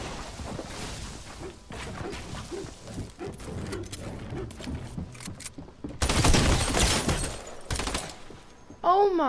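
Rapid bursts of SMG fire in a video game crackle loudly over busy game audio, peaking in a dense volley near the end, followed by a rising whoosh-like effect.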